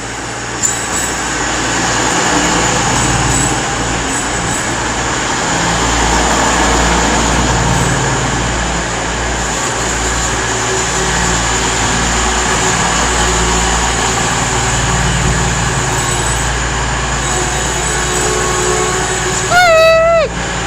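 An East Midlands Railway service to London St Pancras sits at Derby station, giving off a loud, steady engine rumble and hum throughout, with a brief rising high tone near the end.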